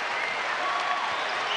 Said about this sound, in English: Now the crowd on its feet. Packed house at Diddle Arena once again